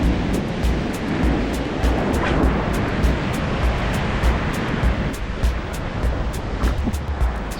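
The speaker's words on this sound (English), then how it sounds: "waves are pretty big here" Big ocean waves break on a rocky California coast at low tide, a loud, continuous roar with surging swells and gusts of wind buffeting the microphone, no voices.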